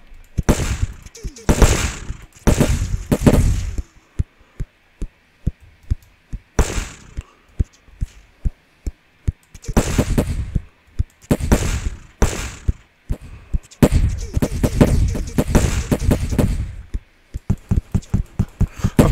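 Gunfire in the Paper Front war video game, loud close bursts of rapid automatic shots alternating with runs of single sharp cracks, dense and rhythmic throughout.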